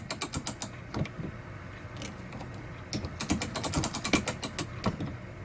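A mainspring being wound with an Ollie Baker style mainspring winder, rapid ratcheting clicks in quick bursts with short pauses between, close and crisp, no talking.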